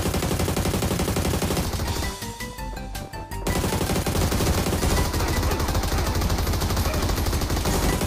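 Rapid hip-fire gunshots from an online shooter game ring out in dense, loud bursts almost without pause, with a short quieter gap in the middle before the shooting resumes.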